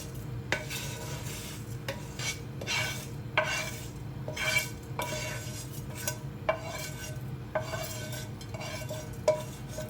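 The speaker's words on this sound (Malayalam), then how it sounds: "സേമിയ ചേർക്കുമ്പോൾ നന്നായിട്ട് ഇളക്കി കൊടുക്കണം കേട്ടോ," A spoon stirring vermicelli into boiling milk in a pot for caramel semiya payasam: repeated scraping and clinking strokes against the metal over a low bubbling simmer, close and irregular.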